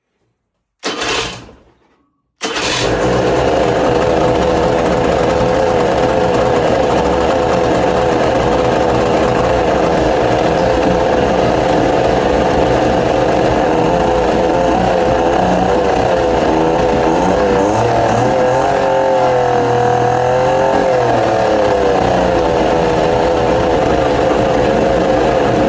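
Old 1968 boat engine idling roughly and unevenly after a quick start, a loud, close, continuous mechanical drone with wavering pitch and occasional stumbles.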